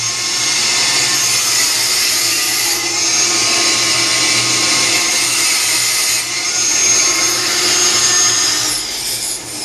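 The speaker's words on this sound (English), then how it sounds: "I have to use the grinder fair near to the cut" An angle grinder works near a square 90-degree cut on a homemade slip harpoon tip, giving a steady, loud, high-pitched grinding whine that holds almost unbroken throughout with slight swells.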